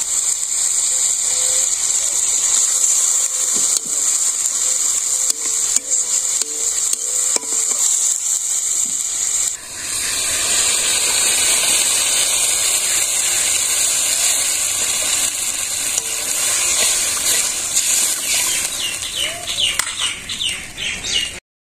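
Fish curry sauce simmering and sizzling in a pot over a village cooking fire, with a steady hiss and bubbling throughout, and chickens clucking faintly in the background.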